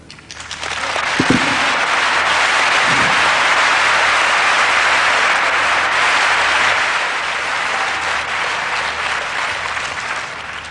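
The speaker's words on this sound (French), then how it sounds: "Tous ces applaudissements," Sustained, loud audience applause fills a Christian religious gathering from start to finish, a dense wash of many hands with a few sharp cracks near the beginning.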